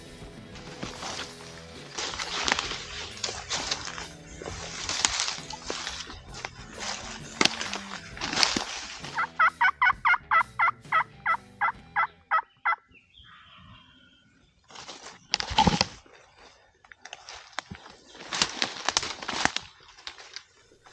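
Wild turkey gobbler with long spurs heard during a spring hunt, several loud rattling gobbles in quick bursts, including a rapid pulsing series midway, with no talk.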